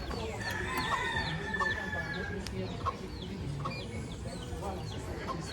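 Chickens cluck and a rooster calls amid a busy outdoor scene in Deshaies, Guadeloupe, with repeated short calls and chirps over steady background noise and faint voices.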